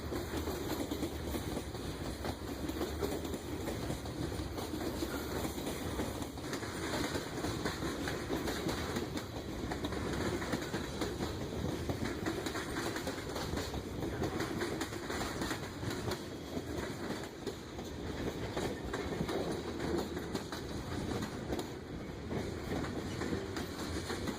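A heavy manifest freight train hauled by an SD70 diesel locomotive rumbles past steadily in Birmingham, engine drone mixed with rolling wheel clatter, continuous and fairly close throughout.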